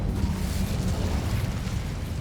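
A steady, roaring whoosh of magical fire from the Incendio spell in Hogwarts Legacy, loud and sustained like a flamethrower burst, with no voices over it.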